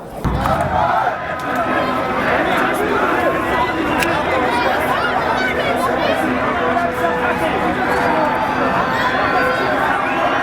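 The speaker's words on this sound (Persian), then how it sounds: "تشویق بازیکنای فجر توسط طرفداراشون با وجود شکستی که داشتن" A stadium crowd of football fans cheers the Fajr Sepasi players after a cup defeat to Gol Gohar, a dense, loud and steady roar of chatter and shouting from many voices.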